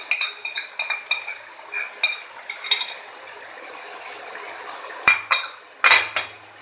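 Spices being stirred into fried tomatoes in a pan, a rapid run of metal spoon clinks and scrapes over a soft sizzle, pausing before a few louder knocks against the pan.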